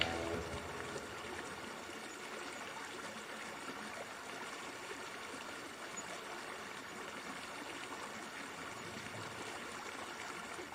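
Water in the Deshka River, Alaska, flows past in a steady, faint rushing hiss that stays even throughout without breaks.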